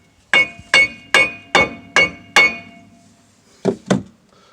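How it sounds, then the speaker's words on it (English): Six sharp metallic hammer taps on a Chevy Tahoe differential part at the center bore ring out in an even rhythm, followed after a pause by two more quick strikes, close and loud. "if you need to tap it with a hammer in the center bore, then that's perfectly fine."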